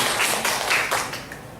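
A congregation at a hospital chapel service claps in welcome for newly admitted patients, a dense burst of many hands that fades over under two seconds.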